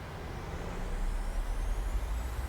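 Airbus reverse thrust in a flight simulator game, a steady low, broad engine roar that holds at an even, fairly loud level throughout with no voices.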